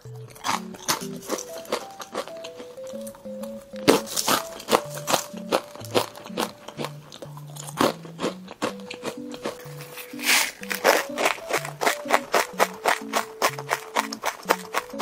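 Close, crisp crunching of crunchy popcorn being chewed, with repeated bites and soft crinkling over a steady melodic background music track.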